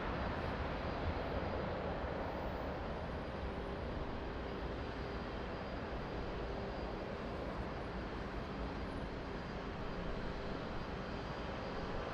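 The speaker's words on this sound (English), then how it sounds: "Double landing." Airplanes landing one after another at Lisbon Airport give a steady, broad engine roar that holds level for the whole stretch, with no voices.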